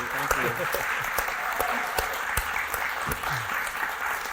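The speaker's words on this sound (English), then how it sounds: "can everyone join us in giving a round of applause and a big thank you to Patrick for being here." An audience claps for a guest, Patrik-Ian Polk, at a talk event: a moderate, steady patter of applause with sharper individual claps standing out, while voices carry on under it.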